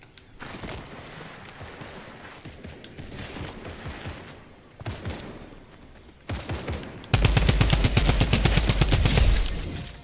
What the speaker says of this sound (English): I hear a bunch of shots going off.